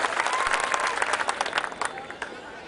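Loud, sustained applause from an audience at a Dashahara celebration event, dense clapping throughout that thins slightly toward the end, with voices mixed in.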